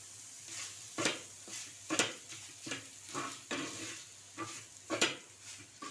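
A spoon stirs sautéed paneer and coriander in a pan, scraping and clinking in a series of irregular strokes roughly every half second over a soft, low sizzle.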